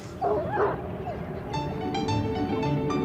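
A purebred bloodhound of about 100 pounds gives a short yelping bark and whimper up close, followed by softer whining over a low background hum.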